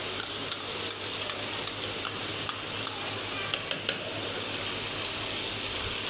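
Garlic ginger paste hitting hot oil in a pan gives a steady, even sizzling hiss, with light clinks and taps of a utensil against the pan now and then.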